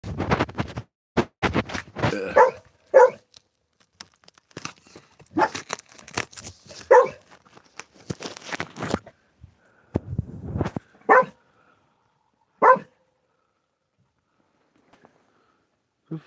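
A dog indoors barks repeatedly at a wall in irregular bursts, loud and close, with scattered single barks and gaps of silence between clusters.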